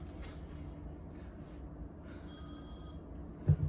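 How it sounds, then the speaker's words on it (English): A telephone rings in a home during an online exercise class, giving a few high, bright trilling bursts over a quiet low hum. Near the end comes a sharp thump. "Phone's ringing."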